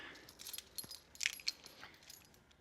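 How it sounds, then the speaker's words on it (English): A bunch of keys for unlocking a sat nav mount on a BMW R1250GSA motorcycle jangles faintly nearby in a few scattered, light metallic clinks. "Where's my keys?"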